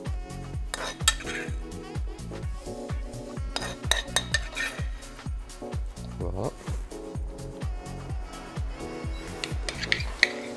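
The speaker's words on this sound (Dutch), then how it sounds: "De rijst gaan we mengen met de gebakken Bosch champignons." Spoonfuls of risotto rice are stirred together with fried wood mushrooms in a pan. A utensil scrapes and clinks against the pan in a quick, steady rhythm, close and fairly loud, with a voice talking over it.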